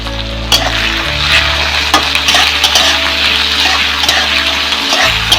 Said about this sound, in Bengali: এগুলো এখন আমি খুব সুন্দর করে ভেজে নেব।